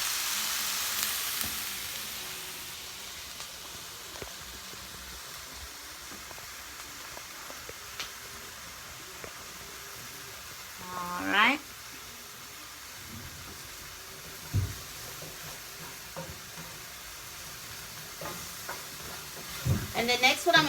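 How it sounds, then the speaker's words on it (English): Vegetables sautéing in a pan for sausage and shrimp creole: a soft, steady sizzle with occasional scraping stirs and light clatter, fairly quiet throughout. "I'm just sauteing my vegetables."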